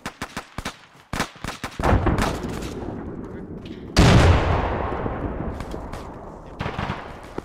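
A frag grenade bursts in a military shooter game, one heavy, booming blast midway through amid scattered sharp gunshots and rattling fire from a combat firefight.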